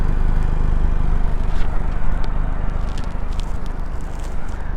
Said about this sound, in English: See the nice exhaust sounds here too.